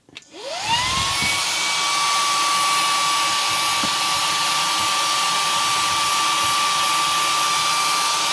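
A cordless handheld vacuum's small motor, on its low setting, whirs up and then holds a steady, high-pitched hum close by, running continuously with no talking.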